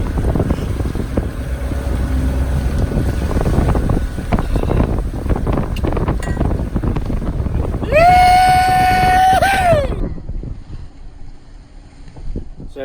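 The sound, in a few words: sailboat sailing in wind off San Francisco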